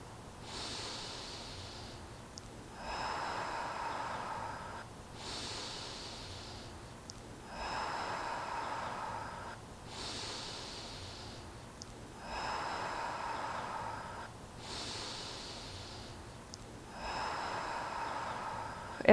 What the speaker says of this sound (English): I like to get big inhales and exhales here for 2 minutes